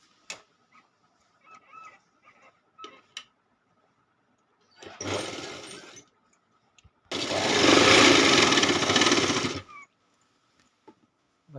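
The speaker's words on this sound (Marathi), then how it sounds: "आता याच बॉर्डरवरती आपल्याला आता अजून एक शिलाई मारायची आहे" Sewing machine stitching the border of a quilt made from old saris: a short burst of rapid mechanical stitching, a pause, then a longer, louder run, with quiet handling clicks before and after.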